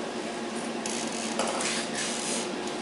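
An aerosol spray can hisses steadily and closely throughout, with a few brief stronger bursts. It is being used on a scale model of the Dora railway gun, with cardboard laid down nearby.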